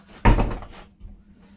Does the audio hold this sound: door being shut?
yes